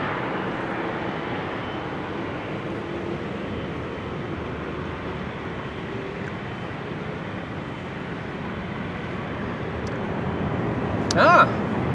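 An airliner starting its engines at Amsterdam Schiphol Airport on a showery day, a steady distant rumbling roar that holds evenly throughout before a brief louder swell near the end, with a person talking over it.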